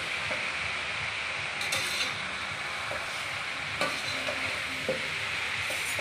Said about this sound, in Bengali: জিরের গুঁড়ো ভেজে বা মিক্সিতে গরম করে নেওয়া হয়েছে। নিয়ে ভালো করে মিক্স করে নিতে হবে এর মধ্যে